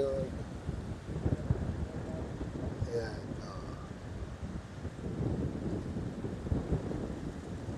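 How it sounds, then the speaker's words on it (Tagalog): Strong wind buffets the microphone at a beach in San Juan, Batangas, with a continuous low roar of wind and waves throughout; a person briefly speaks over it. "di kami makaligo kasi lakas ng hangin, lakas ng alon"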